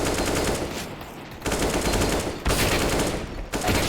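Automatic rifle fire from a Counter-Strike match on the Nuke map rattles out in loud, close rapid bursts, several strings of shots separated by brief pauses, with no talk.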